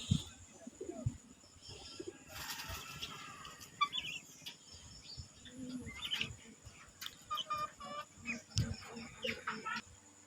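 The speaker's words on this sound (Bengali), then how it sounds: "এই তো আমাদের বাড়ির কবুতরগুলো কি সুন্দর খাবার খাচ্ছে" Domestic pigeons feeding at home give faint, soft coos with a few scattered chirps and light pecking, quiet and intermittent against a calm background.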